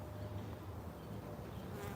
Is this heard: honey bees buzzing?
yes